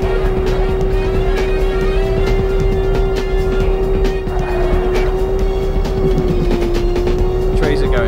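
A car engine drones steadily at high revs in the PS1 racing game Porsche Challenge, with a sustained whine that shifts slightly in pitch as the car drives, loud throughout.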